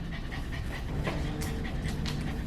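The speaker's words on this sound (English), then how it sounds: "There's a lot of reasons why she could be panting right now." Overweight dog panting steadily and rapidly during grooming in an air-conditioned grooming facility, a continuous close breathy rhythm with a faint clipper-like hum underneath and no talking.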